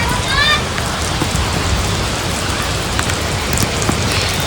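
Heavy rain pours steadily during a downpour in Surat, a dense, loud hiss on the ground with a few distinct drip hits. A brief voice is heard near the start.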